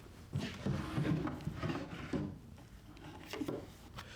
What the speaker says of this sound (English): So I'll start by just pulling these drawers out.